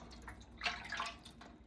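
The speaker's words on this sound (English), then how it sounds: "Add some water" Water poured from above into a metal baking pan or tray, prepared for oven-baked snapper, gives a brief splashing gush of less than half a second, up close, between faint drips.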